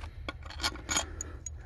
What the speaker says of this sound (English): So I'll just plop them right down in their holes.